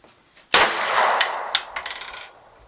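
A Rost Martin RM1C pistol fired at a shooting range: one sharp, loud close report followed by a ringing tail and a few fainter clanks and echoes, with no speech.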